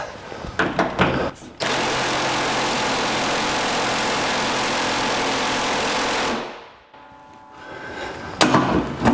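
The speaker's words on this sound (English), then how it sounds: "Let's see if this impact will take that bolt out." An electric impact wrench strains against a large core support bolt on a 1982 Jeep CJ7, first with a few short bursts, then a loud sustained whirring hammer for several seconds before winding down, with more short bursts near the end.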